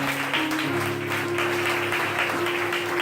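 A church congregation claps for members' birthdays during a youth Sunday service, steady sustained applause filling the room alongside a held organ or keyboard tone, with no voices standing out.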